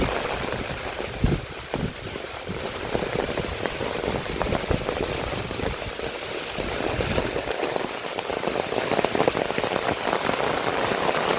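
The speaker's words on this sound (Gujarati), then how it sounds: "रंगपुर गामनी अंदर बहुत बड़ो वरसाद है" Heavy rain pours down in Rangpur village, a dense, steady patter of drops hitting surfaces, with a few sharper splashes standing out through the constant hiss.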